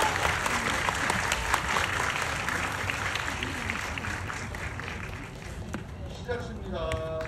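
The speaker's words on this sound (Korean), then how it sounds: "큰 박수로 맞아주세요" An audience at a stage greeting for director Park Chan-wook and actors before a film screening applauds steadily for several seconds, with cheering voices mixed in and a presenter's voice coming in near the end.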